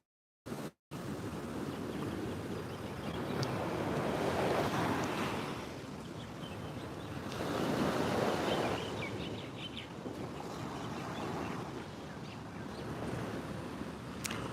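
Ocean waves wash onto the shore in Maui at first light, a broad hissing surf that swells and recedes in slow surges, moderately loud with some wind buffeting the microphone.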